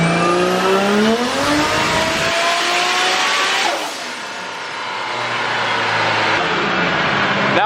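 Toyota 3.4JZ engine screaming on a dyno with a raised rev limit, a loud climbing wail to the top of the range, then a sudden drop and a throbbing idle before revving again.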